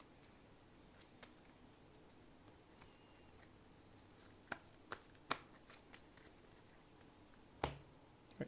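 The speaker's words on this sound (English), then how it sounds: "Shuffle the deck." Trading cards from a Cardfight!! Vanguard Gold Paladin deck being shuffled, faint soft riffling with a few sharp card snaps and taps scattered through a quiet room, no talking.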